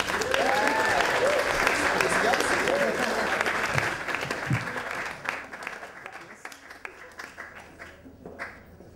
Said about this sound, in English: So if you could all give a big cheer for Will as he comes up.